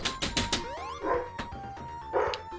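Dogs bark indoors in a quick run of sharp yips and barks, then a few scattered ones, mixed with electronic video game sounds.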